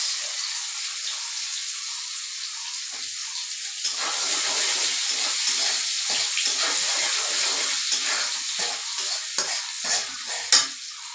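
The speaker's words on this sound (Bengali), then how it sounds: "এইখিনি তেলতে আকৌ অকণমান তেল দিলোঁ এতিয়া মই পুৰণত এয়া কালি জিৰা দি দিলোঁ লগতে মই এয়া পিঁয়াজ" Nigella seeds and onion sizzle in hot oil in a pan while cooking a fish curry, a steady hiss with bursts of crackle and occasional stirring scrapes, no voices.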